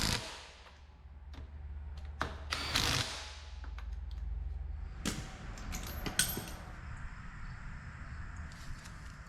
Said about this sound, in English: We'll get these torqued down to 100 foot-pounds.